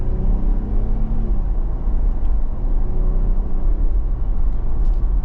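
A 2023 Jeep Wrangler High Tide cruising down the road, a steady low engine rumble and tire roar heard from inside the cabin, continuous and fairly loud with no talking.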